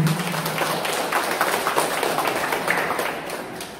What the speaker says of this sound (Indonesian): beri tepuk tangan dulu dong ya semuanya